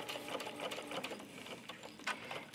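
A home sewing machine stitching forward and backward along a seam on a garden knee pad cover, a quiet rapid mechanical patter with small pulses as the direction changes, close and unaccompanied.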